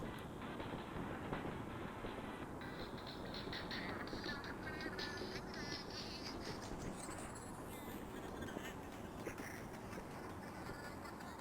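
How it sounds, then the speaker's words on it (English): Train ride in Splatoon 3 rumbles steadily, a constant dense mechanical rattle with faint higher clicking layered on top, even in level throughout with no speech. "Making our way on the train."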